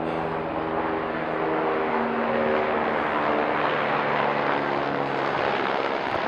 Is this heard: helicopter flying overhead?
yes